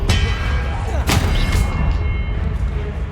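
The Expelliarmus spell in Hogwarts Legacy combat lands as a sharp, booming blast with rumbling impacts over a dense, loud game backdrop.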